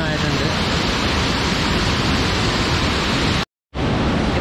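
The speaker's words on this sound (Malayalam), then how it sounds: "കാരണം ഈ പാറ തട്ടി തട്ടി വെള്ളം ഇങ്ങനെ തെറിച്ച് വരും." Waterfall in Kollam with water splashing off rocks, a loud, dense, continuous roar heard close up, broken only by a brief cut near the end.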